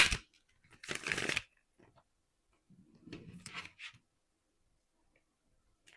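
A deck of cards is shuffled during a quiet tabletop card reading, with a short, crisp riffling burst followed by softer rustling and sliding of the cards, close and faint.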